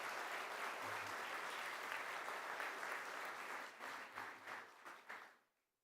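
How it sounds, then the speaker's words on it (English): Graduates at an evening felicitation ceremony get applause from the audience, a loud dense sustained clapping that keeps going, thins into a few separate bursts near the end and then fades away to silence. "Graduates, tonight, let's give a hand of applause"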